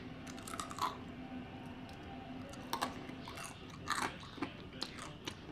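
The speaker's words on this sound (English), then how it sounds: "The crunchiness on the ends of the pasta is like unbelievable." Crunchy bites and chewing of macaroni and cheese pizza with crisp pasta ends, close and fairly quiet, with several distinct crunches spread across the clip and no talking.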